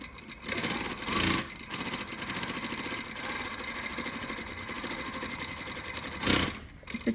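A sewing machine stitches a fabric face mask, its motor whirring steadily and close up with a rapid needle rhythm that runs almost without pause, swelling slightly near the start and end.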